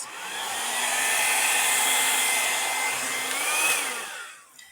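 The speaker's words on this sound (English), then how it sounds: "I think I'm going to blow this little part out a little bit" A blower sends a steady, loud rushing stream of air across an acrylic paint pour for several seconds, holding level with a slight pitch waver before cutting off.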